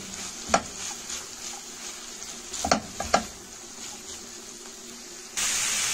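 Chopped onions sizzle steadily in a hot pan for a macaroni and meat casserole, with a few sharp scraping stirs of a spoon over the frying hiss and a louder burst of sizzle at the end.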